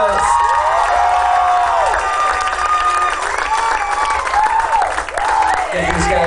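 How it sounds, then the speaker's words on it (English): A bar crowd at a live rock concert applauds and cheers loudly and continuously, with whoops and shouts rising over dense clapping throughout. "give them a round of applause"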